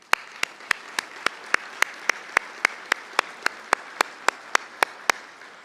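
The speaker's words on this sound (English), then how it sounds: "So I'd ask if we give SDMAC a round of applause." At an SDMAC breakfast event, a round of applause comes across as a steady, evenly spaced train of sharp claps, about four per second, holding an even pace for the whole stretch.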